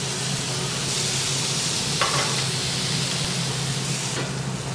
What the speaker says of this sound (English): Season your beef, seal it in a hot pan.